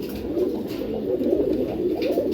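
A male giribaz pigeon coos continuously up close, a low, throaty, rolling murmur that carries on without pause.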